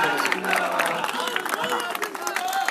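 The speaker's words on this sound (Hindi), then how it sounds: "जोरदार तालियां।" A crowd at a Chandravanshi youth conference in Patna breaks into lively applause, dense clapping mixed with cheers and excited voices, filling the hall without pause.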